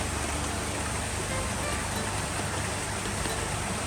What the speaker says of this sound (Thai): ฝนตกด้วย อ้าวลงปลาใหม่วันฝนตก